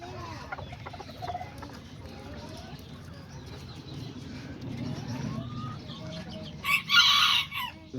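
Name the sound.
chickens and roosters clucking and crowing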